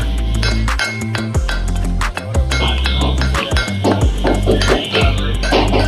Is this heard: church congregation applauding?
no